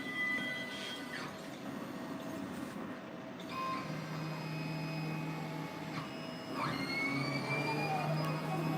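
A machine used to make G-body lower link bar brace parts starts a dry run, giving a quiet, steady whirring hum with thin whining tones that shift partway through, and no talking.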